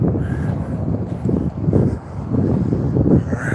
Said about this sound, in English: It's kind of windy here, guys.